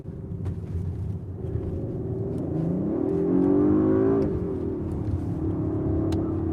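A 2021 Audi RS5 Sportback Launch Edition with quattro all-wheel drive revs up hard through a corner, its engine note climbing steadily to a loud peak and then easing off, heard from inside the car over a constant road drone.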